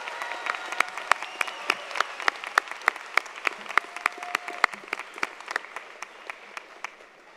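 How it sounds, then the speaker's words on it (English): Applause for Associate in Science degree graduates at a commencement: a thin spread of sharp individual claps over soft crowd noise, distant and fairly sparse, fading toward the end. "One more round of applause for our Associate in Science degree graduates."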